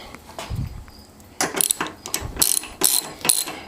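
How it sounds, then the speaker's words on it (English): Ratchet tightening the two mounting bolts on the fuel tank of an Excelsior-Henderson Super X motorcycle, heard close up as a few short bursts of rapid clicking separated by brief pauses. "now I'm going to tighten down these 2 bolts on the tank"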